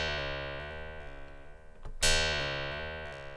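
Sustained Korg Minilogue XD synthesizer note whose pitch moves in audible discrete steps as the pitch is modulated, a bright harmonic tone with a short noisy burst partway through, heard alone.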